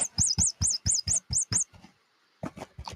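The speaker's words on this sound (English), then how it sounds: "This mousey squeaks." A squeaky toy mouse squeaks seven times in a quick even rhythm, bright and close, then falls quiet before a few softer thumps and rustles.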